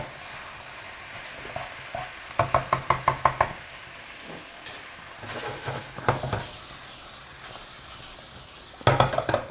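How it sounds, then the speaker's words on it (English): Cooked quinoa and paste sizzle softly in a pan, like fried rice, broken by bursts of rapid knocking and scraping as a utensil stirs and taps against the pan. "So we're just gonna fry this."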